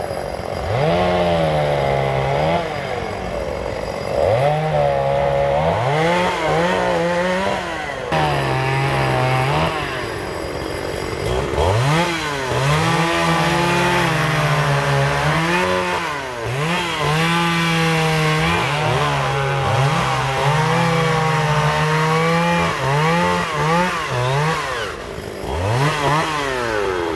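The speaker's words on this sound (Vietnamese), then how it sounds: "đang kéo cái máy cưa lên." Chainsaw cutting the top of a golden-flower acacia tree in Binh Duong, a loud engine whine rising and falling in repeated pitch sweeps as the blade bites and eases, continuous and close throughout.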